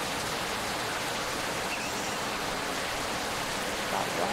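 Steady, dense hiss of rain falling in the video game Farmer's Life, even and unbroken for the whole stretch, with no voices.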